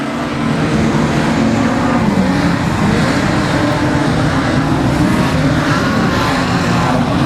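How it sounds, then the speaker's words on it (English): Race cars roar down the main straight at the finish of a dirt-track B-Main race, a loud, dense, unbroken engine drone filling the whole stretch. "Ashley Parkinson down the main straight, takes the checkered flag."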